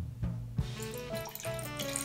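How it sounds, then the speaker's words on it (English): Vinegar poured into a cup up to the quarter-cup mark, a steady close splashing trickle like running tap water that lasts about two seconds with no talking. "go ahead, pour it in up to a fourth cup"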